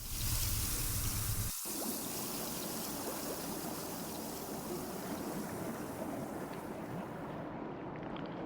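Flowing water in the Secret Files: Tunguska adventure game, a continuous close stream-like gush and trickle that runs throughout, briefly louder at the start before settling into an even flow.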